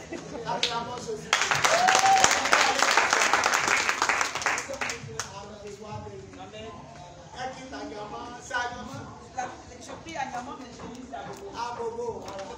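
A church congregation applauding Jesus during a prophetic worship service, a dense burst of clapping that swells for a few seconds and then fades under ongoing speech.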